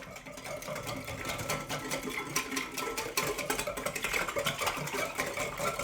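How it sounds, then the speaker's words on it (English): Fajita marinade is whisked briskly in a bowl, a rapid continuous rattling whir of the whisk against the sides that builds slightly louder, with no talking. "Now we can whisk everything together until well combined."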